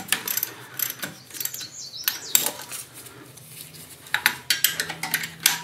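A ratchet wrench clicks in repeated bursts while tightening the bolts of a starter generator on a 1994 Club Car DS gas golf cart, the close metallic ratcheting separated by brief pauses and light clinks of tools.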